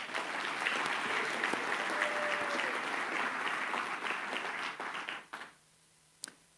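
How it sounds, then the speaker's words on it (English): Round of audience applause at a student recognition ceremony, a steady wash of many hands clapping that thins out and fades near the end, leaving near-silence with one last isolated clap. "Let's give another round of applause to all our brilliant"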